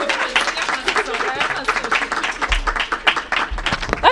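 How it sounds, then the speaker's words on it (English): Audience in a school welcomes Washington, D.C. Mayor Muriel Bowser with several seconds of steady, dense clapping and applause, fairly loud and close. "Give her a big round of applause."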